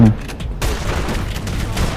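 Dense bursts of shotgun fire crackle close and loud in the video game Armed Heist, with repeated heavy blasts running back to back and no clear pause.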